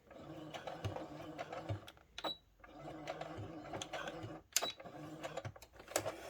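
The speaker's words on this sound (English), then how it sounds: "When you get to the end, you want to back stitch again." A sewing machine back stitches the end of a seam on a satin-lined bonnet, running in several short bursts of rapid mechanical stitching, close and moderately quiet, with brief pauses between runs.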